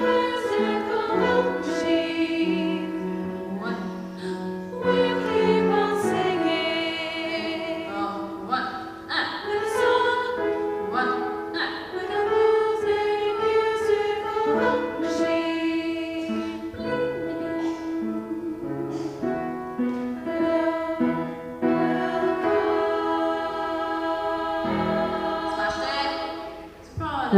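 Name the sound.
choir rehearsing a new composition from memory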